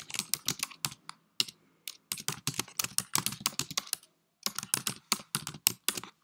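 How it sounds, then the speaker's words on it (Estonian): Close computer keyboard typing as a quiz question is entered, quick bursts of crisp key clicks separated by short pauses, fairly quiet and with no talking. "Nüüd tuleb trükkida siis küsimus."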